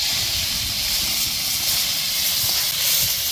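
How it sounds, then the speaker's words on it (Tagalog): A steady, dense hiss of sweet potato leaves sizzling in hot oil continues without pause, close up and fairly loud, with no voices. "Prito na natin itong talbos ng kamote."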